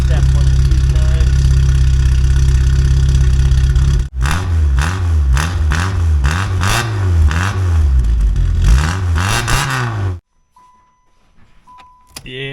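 A Yugo car with a DIY exhaust idles loudly, then gets several quick throttle blips that rise and fall in pitch in a rhythmic series before the engine cuts and near-silence follows.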